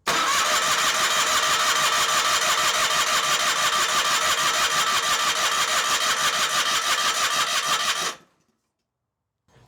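A John Deere 318 lawn tractor engine cranks continuously with the spark plug pulled to prime a new fuel pump, a loud, close, rapid rhythmic churning for about eight seconds before stopping abruptly into silence.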